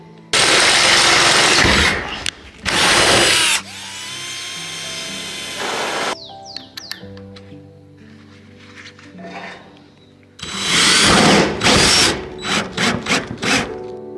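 A power drill drives screws into a roof, with loud whirring bursts that start and stop abruptly, then a quieter gap with scattered clicks before more rapid, choppy drilling bursts near the end.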